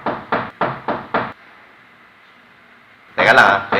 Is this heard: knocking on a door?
yes